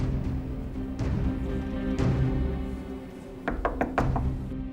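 A door is knocked on in a domestic scene, a few sharp raps with a cluster of quick knocks near the end over a low room hum.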